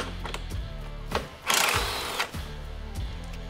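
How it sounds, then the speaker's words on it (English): A 13mm wrench or ratchet undoing the top three strut bolts on a BMW E46 track car during a coilover install, with rapid clicking ratchet bursts and a brief louder rasp, close up and without talk. "you're gonna come to the top with a 13mm and undo the top 3 bolts"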